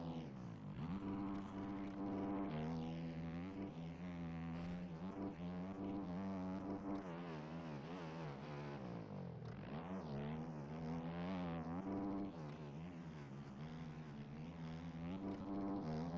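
Video-game motocross bike engine at a pro motocross championship round at Thunder Valley, a steady loud buzzing drone with rising and falling pitch as the throttle shifts, continuous throughout.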